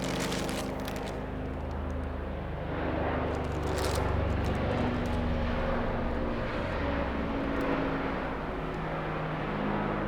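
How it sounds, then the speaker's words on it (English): A helicopter flies overhead past a parked car, a steady rumbling drone that swells slightly and fades, heard alone with no talk. "And a helicopter flying overhead."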